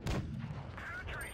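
A tank round strikes the player's tank in WoT Blitz while driving a BatChat 25t AP: a single heavy impact thump near the start, followed by lingering rumble and ringing metallic tones.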